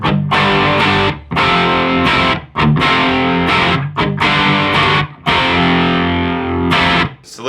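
An electric guitar runs through a Boss MS-3 on a dirty, dry patch, playing loud, saturated distorted chords in short bursts separated by abrupt stops, with no echo or reverb tail.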